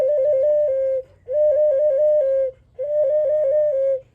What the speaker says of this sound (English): It's like I made it with the ocarina and I like made the beat all crazy.